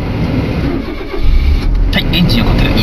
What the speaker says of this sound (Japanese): エンジンをかける